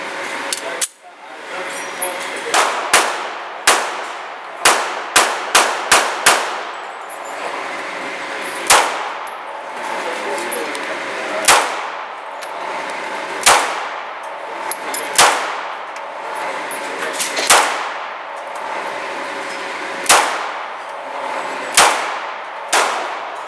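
Pistol shots fired with Winchester white box ammunition at steel targets from the 7-yard line, a string of sharp cracks with ringing metallic clangs, some quick bursts and some spaced out, loud and close with faint talk in the background.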